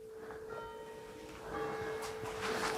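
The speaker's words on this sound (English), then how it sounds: "We hear the bells of the church in the background." Church bells ring steadily in the distance outside an abandoned postwar mansion, with a faint sustained bell tone under soft ambient noise.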